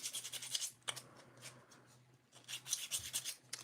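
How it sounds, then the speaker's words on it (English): Sandpaper, dipped in liquid, rubs against a plastic Bild Lilli doll in quiet, close scratchy strokes that come in rhythmic bursts with a short pause midway. "So I'm gonna be using this. Probably need to dip my sandpaper in there."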